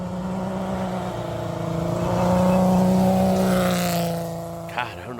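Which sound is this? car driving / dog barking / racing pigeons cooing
car driving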